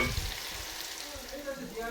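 Bitter gourd with garlic fries in a cast iron pan, giving a soft, steady sizzle that stays faint and even for a brief moment.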